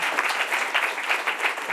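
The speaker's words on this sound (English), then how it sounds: "big round of applause." Seminar audience giving a round of applause for a resource person, a steady patter of many hands clapping together at close-to-moderate distance, dense and even throughout without talk over it.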